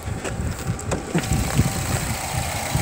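A Nissan Altima SV's 2.5-liter four-cylinder engine idles quietly under an open hood, a soft, steady hum with light outdoor wind noise.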